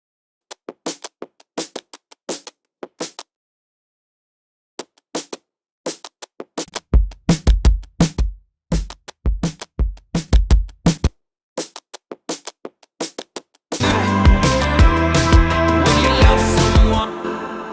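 Snappy, clappy drum loop shaped with Pro Q3 and a vintage filter: sparse crisp hits and claps at first, then a fuller steady groove with low kicks, finally opening into a dense loud full mix.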